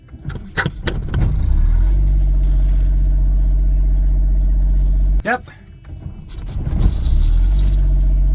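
A boat engine idles steadily with a low, constant rumble throughout, broken by a brief dip, with a short spoken reply and some clatter of handling on board.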